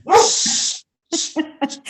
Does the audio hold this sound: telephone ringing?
no